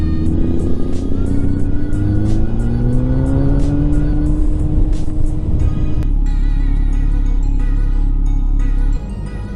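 A Kawasaki Z900 motorcycle engine revs on a road trip, a loud, continuous drone whose pitch sweeps upward, then settles into a steadier tone partway through and eases off near the end.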